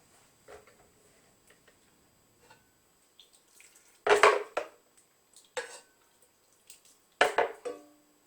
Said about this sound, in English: let's ladle some into the blender